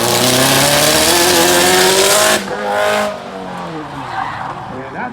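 A car drifts through a slightly rainy fall autocross course, its tires squealing loudly in a sustained skid with the engine droning underneath before the sound fades into the distance.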